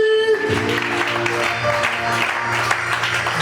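Church congregation clapping during a service, a burst of applause rising after a brief opening tone and continuing steadily, with a crowd murmur mixed in.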